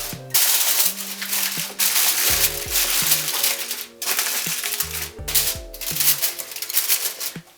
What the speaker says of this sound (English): you want to cover it with aluminium foil